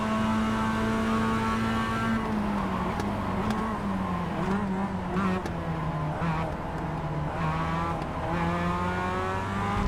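Mazda MX-5 Cup race cars in a racing video game drone loudly and continuously, engine pitch sliding down and up as several cars run close together, with faint tire noise.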